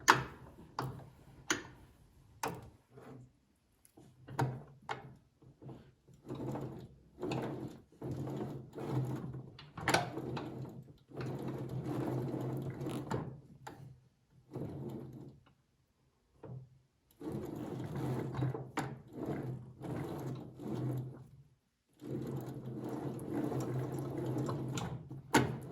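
Metal friction wheel on a wheeled MTD snow blower, freshly greased, being slid back and forth and rotated by hand, giving close, intermittent scraping and clicking bursts with short pauses between movements.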